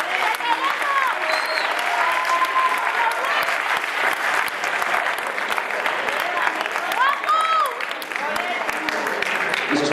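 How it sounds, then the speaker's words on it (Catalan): Loud, sustained applause from an audience at a school Christmas concert fills the whole stretch, with dense continuous clapping and some cheering or whistling mixed in. "Demano un aplaudiment molt fort amb el Jaume."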